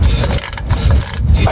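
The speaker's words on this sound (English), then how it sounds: "Didn't think I'd ever need this fancy little bending ratchet, but it worked." A bending ratchet clicks and grinds steadily, close and loud, while a small screw is turned on a Jeep, with no speech.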